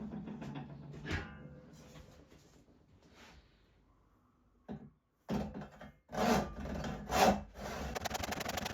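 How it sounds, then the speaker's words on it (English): Hand saw cutting through a thick block of oak with an old saw, rasping strokes that start sparse and grow louder and denser, close by, with no talking. "essentially just a thicker block of oak which I cut using an old saw"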